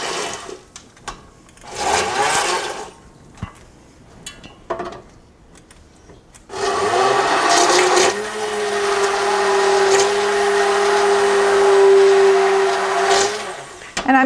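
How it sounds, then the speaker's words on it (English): An electric hand mixer purées beet soup, starting with a few short bursts, then running continuously with a steady motor whine that wavers slightly as the pot is tilted. "And then we're just going to cream it. We're going to use my trusty hand mixer."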